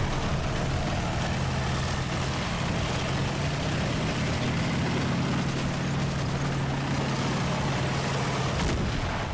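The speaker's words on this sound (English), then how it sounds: "I feel bad for our scouts shooting over the top of their heads" Scouts firing rifles in Combat Mission: Battle for Normandy, distant sporadic gunshots and low artillery-like thumps over a steady engine hum and wind-like noise, no voices.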